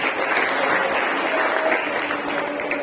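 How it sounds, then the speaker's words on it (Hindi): Audience at a church gathering claps loudly for Bablu, a thick, sustained burst of applause from many people, even and unbroken throughout, with a faint tonal hum underneath. "बबलू के लिए जोरदार ताली।"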